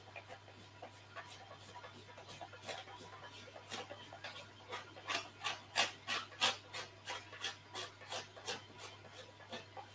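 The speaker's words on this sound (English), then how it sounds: "I'm using a very fine grater." Spice or nutmeg grated by hand on a very fine grater while making spiced Easter buns, a run of quick, close raspy strokes that grows louder and more regular toward the end.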